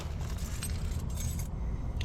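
Car keys jangle briefly beside a 90-year-old Chevy Master Deluxe Coupe being revived, light metallic rattles over a steady low rumble, short and fairly close.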